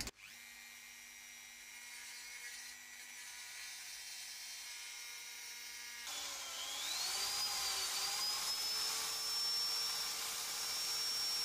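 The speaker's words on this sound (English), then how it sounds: "initially use a Dremel to try and hollow out somewhere where I can get a drill bit in" A small Dremel rotary tool whines steadily, then its pitch shifts and rises as it bites into the metal of an antique over-and-under pistol, a close, continuous high grinding drone.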